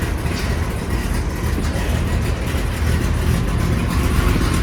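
A drift car's engine runs inside a car parts store, a loud, close, rough mechanical rumble that holds fairly steady throughout with slight rises in intensity.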